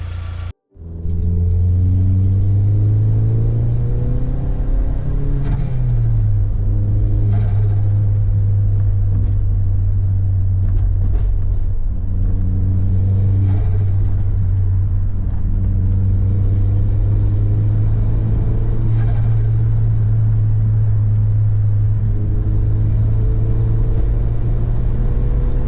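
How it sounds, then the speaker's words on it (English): A Vauxhall Zafira seven-seater turbo minivan drives on the road, its engine loud and steady, rising and falling through gear changes with turbo whistle and boost hiss under acceleration, heard from inside with no talk. "that's the Zafira back on the road and back making boost just as it should"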